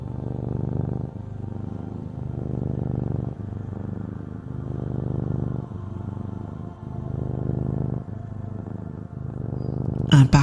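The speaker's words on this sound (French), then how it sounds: "harmonisée avec le ronron du chat." A cat purrs in a low, steady rumble that pulses in regular breathing cycles, close and continuous, with a brief rustle at the very end.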